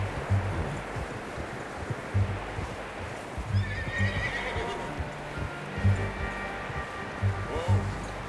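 Horses in Red Dead Redemption 2 give repeated close whinnies and snorts over soft clip-clopping hooves and rustling outdoor ambience.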